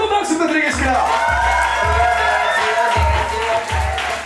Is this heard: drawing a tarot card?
no